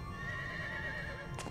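A horse in the video game Mahoutsukai no Yoru clip-clops along and lets out a high whinny, a bright wavering neigh over a soft rhythmic hoof beat, ending with a sharp click.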